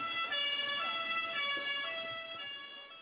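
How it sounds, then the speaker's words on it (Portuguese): An ambulance siren wails loud and close with a rising and falling two-tone sweep, responding to a car crash at a roadside junction in Carambeí, Brazil, with no voices over it. "Em poucos minutos, a ambulância do SIAT chegou ao local."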